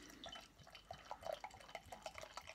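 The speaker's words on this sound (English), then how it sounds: "Let's give it a pour." Sadlers Peaky Blinder pale ale pouring from a 500ml bottle into a glass, a quiet stream with soft gurgles and repeated drip-like splashes as the lively beer foams.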